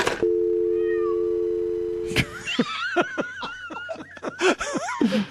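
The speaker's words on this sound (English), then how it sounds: "that cat was even on the line even after he hung up." A cat meows over a telephone line, heard after a steady dial tone. A run of rapid, warbling meows and cries follows, thin and band-limited like a phone connection, moderately loud and with no talk over it.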